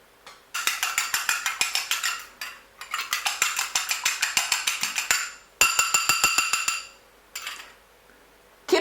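An egg is beaten briskly with a whisk in a bowl, producing rapid rhythmic metallic clinks in bursts separated by short pauses, close and fairly loud with no talking.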